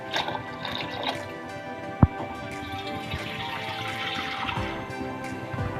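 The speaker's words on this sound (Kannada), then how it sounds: "ಸ್ವಲ್ಪ ನೀರು ಸೇರಿಸಿಕೊಳ್ತೇನೆ" Water pours into a cooking pot for rasam (tili saru), a continuous splashing trickle lasting several seconds, with one sharp knock near the middle and some faint background clatter.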